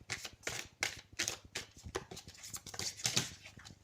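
Oracle cards are shuffled by hand, giving a close, crisp run of quick riffling flutters and soft slaps in an uneven rhythm, with no talking.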